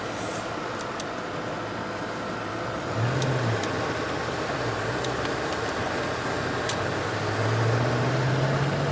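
A 1986 Ford Mustang GT's engine drones steadily from inside the cabin, its pitch rising and falling with manual gear changes and a faint whine, no talking.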